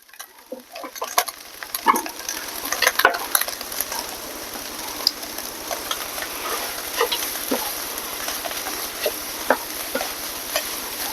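Hash browns frying in a pan for breakfast burritos, a continuous crackling sizzle with scattered ticks and occasional stirring scrapes, close and fairly loud with no talking.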